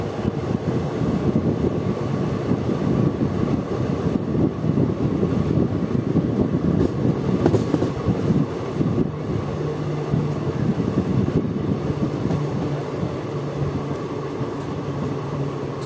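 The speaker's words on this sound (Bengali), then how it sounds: "তো দেখতেই পাচ্ছেন আপনারা আমাদের ট্রেন এখন ঢুকে পড়েছে মেমারি রেলওয়ে স্টেশন।" The Azimganj–Howrah Kaviguru Express (13028) pulls into Memari railway station, heard from aboard as a loud, continuous rumble of rolling wheels and clattering carriages mixed with wind buffeting, with no talking.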